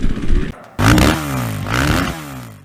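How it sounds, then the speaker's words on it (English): Kawasaki KX 450F dirt bike engine revved close up, a sharp, loud blip after a brief lull, then pitch sweeping down and rising again in a second rev. "Anyway, so I'm gonna ride this KX."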